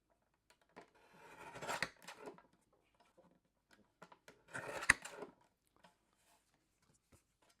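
Scissors trimming craft paper for a handmade card, heard as two close bursts of crisp snipping and rustling, each lasting about a second, separated by quiet with faint handling clicks.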